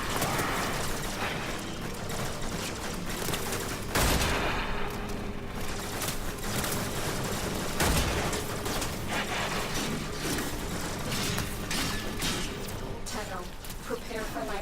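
A Vector submachine gun fires in a video game with dense, rapid mechanical rattling bursts that run almost continuously, punctuated by a few heavier hits, loud and close throughout.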